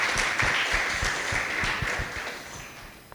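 Audience in an auditorium at a financial literacy conference gives a short round of applause, with some close, distinct claps that fade out toward the end.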